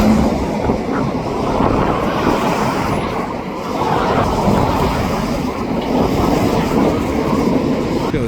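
BNSF intermodal freight train rolling past near a bridge, a loud continuous rumble with rhythmic clickety-clack of wheels over rail joints, close and steady throughout with no talk.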